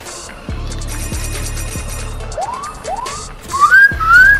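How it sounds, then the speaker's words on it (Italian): Sirens in Fortnite Battle Royale sweep upward in repeated rising wails over low rhythmic thumps, growing louder and higher toward the end, with no talk. "Le sirene fanno ciao a tutti noi."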